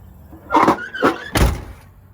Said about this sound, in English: So what happens is it kind of creates a bind when you go to close the door.